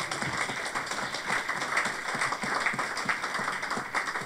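A congregation applauds during a sermon, a continuous dense patter of many hands clapping at an even level throughout.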